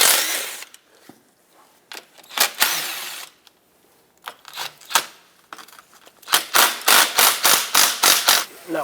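Removing 10mm bolts from the AC condenser of a Mazda 6: a close series of sharp ratcheting clicks, sparse at first, then a rapid regular run near the end.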